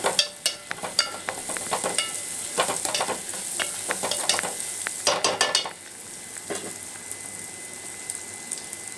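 Fried ingredients are stirred in a hot pan, a spoon rapidly scraping and clattering against the metal over a continuous sizzle, loud and close, before the stirring stops and only a steadier frying hiss remains.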